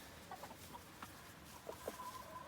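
Chickens in a chicken tractor give soft, scattered clucks at a moderate distance, a few short calls rising over a quiet background.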